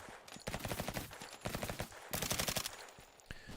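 Rapid bursts of automatic gunfire from a malfunctioning gun in a game being built in Unreal Engine 5, several close, loud volleys of evenly spaced shots separated by short pauses.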